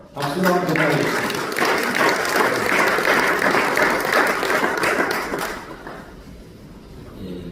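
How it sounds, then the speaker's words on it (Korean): A full hall applauds at a Korean mission society general assembly, steady dense clapping for several seconds before tapering off, with a voice briefly audible at the start and as the clapping ends. "박수로 한번 부탁드리겠습니다."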